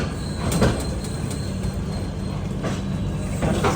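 The Gaur Express from Malda Town to Sealdah runs along the line, heard from inside a 3AC coach as a steady rumbling roll of wheels on track with faint metallic squeals, close and continuous.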